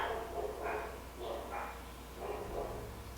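Dogs at home, a French Bulldog and a Cane Corso, bark in a quiet room, about five separate muffled barks spaced irregularly and heard at a distance, with no talking over them.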